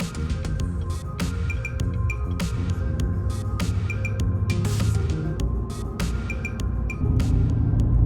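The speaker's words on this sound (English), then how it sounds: "I can't hear you over the tire noise." Steady, loud tire roar fills the cabin of a moving pickup truck as a continuous broadband rumble, with faint ticks and clicks over the top.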